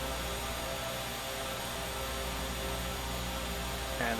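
Realair Turbine Duke BE60 turboprop engines drone steadily in a flight simulator, a constant, fairly faint hum with no talk.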